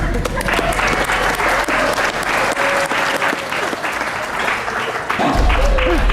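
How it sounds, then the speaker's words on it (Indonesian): Studio audience of an Indonesian TV show bursts into loud, sustained applause, a dense continuous wash of clapping filling the whole stretch, with a brief boom near the end. "Tepuk tangan."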